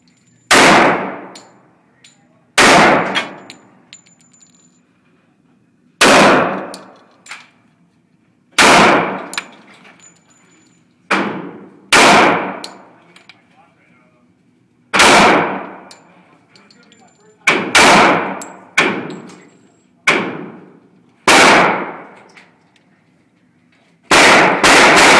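Gunshots fired at a shooting target: about a dozen loud, sharp cracks at irregular intervals, some in quick pairs, each with a short ringing tail, and someone speaks briefly between them.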